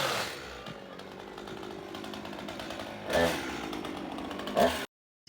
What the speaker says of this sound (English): The chainsaw is about to be real loud.